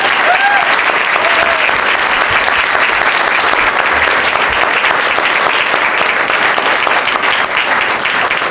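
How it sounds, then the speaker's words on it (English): Sustained, loud applause from an audience at a domestic violence awareness gathering, dense clapping filling the space steadily without pause. "Let's give her one more round of applause."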